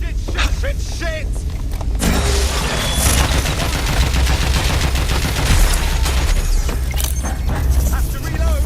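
Dense gunfire in Watch Dogs Legion crackles in rapid bursts over clanking mechanical noise and a low rumble, while voices talk over the continuous firefight.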